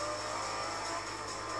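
Race cars in Forza Motorsport 4 droning and revving together in a brief, steady burst of engine noise, with no talk.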